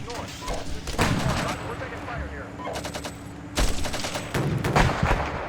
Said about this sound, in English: Oh, I do hear small arms fire going on.